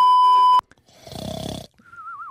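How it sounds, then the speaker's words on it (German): Roxy snores in a cartoon Five Nights at Freddy's animation: a long, pulsing, rumbling snore, preceded by a steady electronic tone and followed by a wavering whistle. "Oh, Roxy richtig am Schnarchen."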